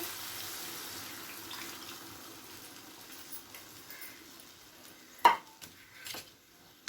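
Tamarind juice poured into a broad bean curry cooking with jaggery: a low running trickle, then a brief splash and a few light knocks of the vessel, close and otherwise quiet.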